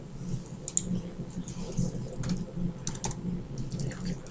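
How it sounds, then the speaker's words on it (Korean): Keystrokes on a computer keyboard during a digital artwork session, a few light clicks of a shortcut press over a low steady background hum. "그리고 컨트롤 T를 눌러서"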